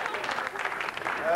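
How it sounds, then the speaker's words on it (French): Brief burst of audience applause in a French television studio, steady and dense clapping from a live crowd, lasting only a moment. "On peut applaudir pour le souvenir Anne-Sophie, s'il vous plaît."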